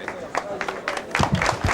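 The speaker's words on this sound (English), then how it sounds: "More applause" Applause from traders on a busy futures exchange trading floor during a royal visit, scattered claps building into a fuller burst near the end, mixed with crowd murmur and a voice talking over it.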